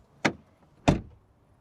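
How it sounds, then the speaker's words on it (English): A BMW X3 door is shut twice in a row, two short solid thuds about half a second apart, close by and fairly quiet, with nothing else audible. "Door closing sounds, BMW first."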